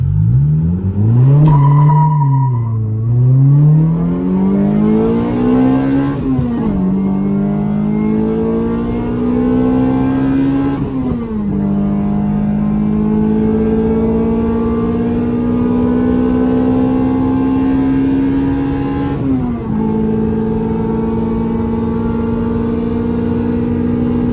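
A car launching hard on Achilles ATR Sport 2 tires along an open street: the engine revs up loudly and climbs through several gear shifts, each with a brief dip before pulling again, sustained and close throughout.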